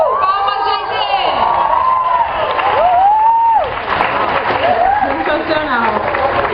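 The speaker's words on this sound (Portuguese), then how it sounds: "Palmas, gente!" A crowd at an anime convention panel with voice actors applauds and cheers, with whoops and shouting over continuous clapping while voices rise and fall through it.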